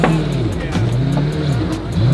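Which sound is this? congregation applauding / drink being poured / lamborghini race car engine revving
lamborghini race car engine revving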